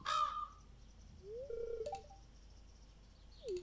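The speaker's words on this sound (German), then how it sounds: "Ja, ich weiß, Krähen." Crows caw in the video game Stardew Valley: a few harsh calls come one after another, each short and clear against a quiet backdrop, with a last caw near the end.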